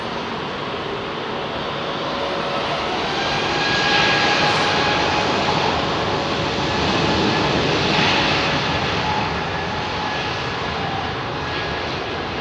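A Qatar Airways Airbus A380 at Heathrow makes a sustained jet engine roar that swells toward the middle, then eases slightly while staying loud throughout, with no talking.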